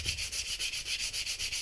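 Sandpaper rubbing back and forth over a wooden rifle stock during refinishing, a steady rhythmic scratchy stroke repeating about every fifth of a second, close and clear with no talking.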